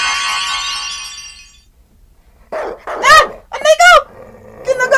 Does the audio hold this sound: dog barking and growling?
yes